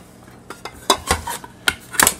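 An aluminum mess kit with a small pot and cup is opened and handled, giving several light metallic clinks and taps spaced irregularly, close and fairly quiet.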